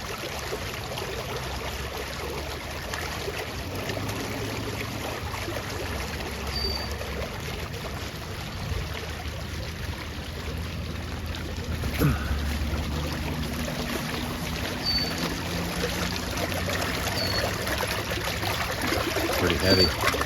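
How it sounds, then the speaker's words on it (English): Water flows over a small dam wall on an island in a steady, moderate rushing wash, with a voice speaking over it now and then. "I forgot about this little dam wall holding back the water"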